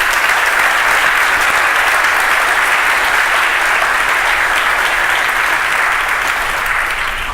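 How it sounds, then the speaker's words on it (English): Sustained applause from a conference audience at a documentation community event in Portland, steady and dense throughout with no talking over it. "Please give them a round of applause, actually."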